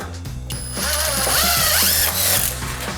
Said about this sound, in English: No problem driving these fasteners.